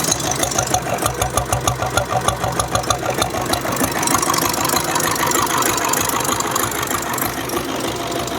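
A 1983 diesel Bullet motorcycle engine idles loudly and close, with a steady, heavy low thumping beat and mechanical clatter running continuously throughout.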